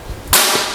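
A single sharp crack from a Bocap FX UX2 PCP air rifle firing a pellet, close and sudden after a brief quiet lead-in, with a short hissy tail.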